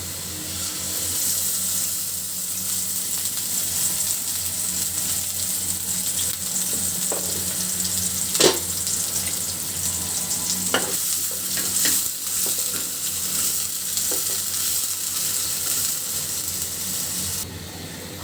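Spice masala of turmeric, chili, coriander and garlic paste frying in oil, a steady close sizzle and hiss with a few scraping stirs of the spoon against the pan.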